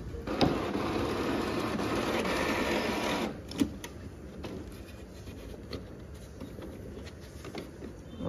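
A printer runs off cover pages in a small home business shipping Flipkart and Amazon orders, giving a steady mechanical whirring and rattling feed that stops partway, followed by scattered clicks and taps.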